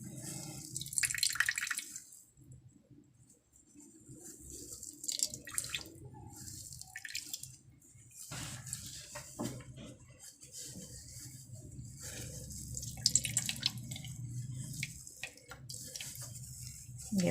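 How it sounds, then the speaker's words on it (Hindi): Water drips and trickles in uneven spurts as a wet cloth of fresh paneer is pressed and squeezed, close by and fairly soft. "खूब अच्छी तरह दबा दबा के, ये देखिए सारा इसका पानी निकाल देंगे।"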